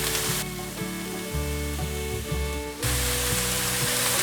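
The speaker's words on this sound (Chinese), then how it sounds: "快速的翻炒。" Carrot, cabbage and tofu stir-fried briskly in a wok give off a steady, close sizzle with a broad hiss that thins out midway and then returns at full strength, with no voices over it.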